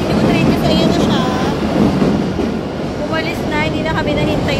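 Metro train arriving at a station platform in Barcelona, a steady loud rumble with faint wheel squeals and rail clatter throughout, with people talking over it.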